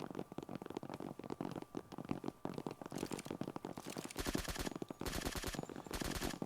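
Gun in the zombie shooter Date of Death Origin firing rapid, loud shots in dense runs, ending in steady machine-gun-like bursts over a busy game background.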